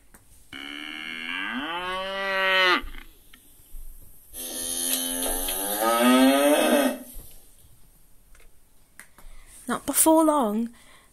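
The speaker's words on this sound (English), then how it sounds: "the cow started mooing and mooing and mooing" Long, drawn-out cow moos rise and fall, two extended calls followed by a shorter one, loud and close, with a brief gap of quieter sound between them.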